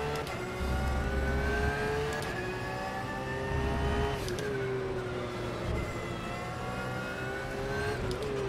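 A race car accelerates at full throttle, its engine note climbing repeatedly through gear shifts, loud and close, with no talk over it.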